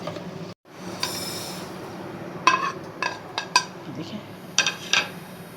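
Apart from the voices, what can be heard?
whole spices being dry-roasted and stirred in a pan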